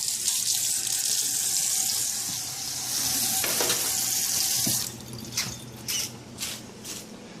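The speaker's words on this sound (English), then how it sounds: "Wash my dish off here." A dish washed under a running kitchen tap: a loud, steady gush of water for about five seconds, then the flow stops and a few short splashes and clatters follow.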